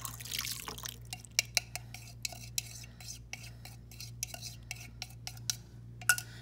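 Slime formula being stirred and mixed in a bowl, with repeated light clinks and taps of a utensil against the container and soft wet sloshing over a steady low hum, no talking.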